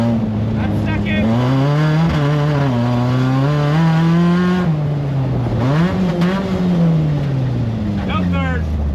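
A cheap track-ready race car's engine revs loud and close in second gear, its pitch rising and falling through repeated pulls across the whole stretch while a voice speaks over it.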